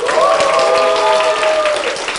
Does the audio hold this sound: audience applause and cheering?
yes